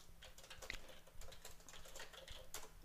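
Soft, steady computer keyboard typing, including a press of the F2 key to edit text in a mind-mapping program, a quick run of light close keystrokes with no talking.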